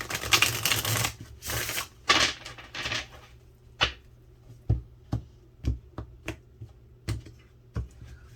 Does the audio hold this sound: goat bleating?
no